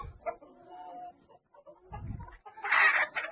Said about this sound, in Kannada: ಇದು ಅಂಡಮಾನ್ ನಿಕೋಬಾರ್ ದ್ವೀಪದ ನಾಟಿ ಕೋಳಿಗಳು